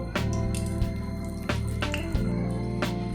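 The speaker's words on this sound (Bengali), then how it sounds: "ওই তেলেই আমি দিয়ে দেব দারচিনি এলাচ আর দুটো তিনটে লবঙ্গ" Cinnamon, cardamom and cloves drop into hot oil, giving a close continuous sizzle with a few sharp crackling bursts as the whole spices hit the pan, steady and fairly loud with no voices.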